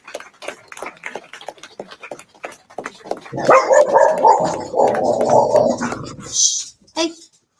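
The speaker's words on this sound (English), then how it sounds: "that's a dog's bark" A dog barks and yips in short bursts through the first seconds, close by, under and between people talking, before a louder stretch of crowd chatter takes over.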